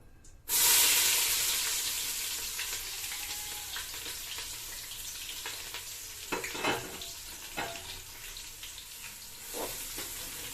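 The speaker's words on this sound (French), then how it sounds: "Quand l'huile est chaude, on va rajouter nos oignons émincés" Sliced onions dropped into hot oil burst into a loud sizzle that slowly settles into a steady, hissing fry, with a few stirring scrapes and clinks later on.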